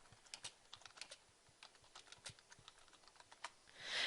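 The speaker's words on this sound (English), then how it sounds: "Now you want to type in your title" Someone types a document title on a computer keyboard, a steady run of quiet, close key taps with uneven rhythm and no talking.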